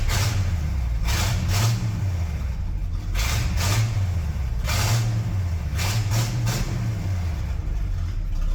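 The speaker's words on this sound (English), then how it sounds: "She's a snappy little engine now." Classic truck engine fitted with an Edelbrock carburetor, running steadily with a loud, close rumble as the revs rise and fall in several repeated blips.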